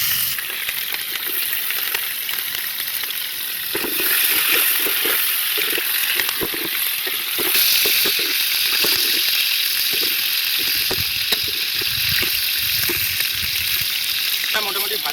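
Onions go into hot oil with chopped ginger and garlic in a heated wok (kadai), a steady close sizzle and crackle with stirring scrapes, while a voice talks at times.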